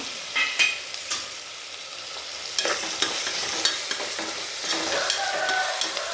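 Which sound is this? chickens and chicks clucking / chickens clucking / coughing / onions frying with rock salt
onions frying with rock salt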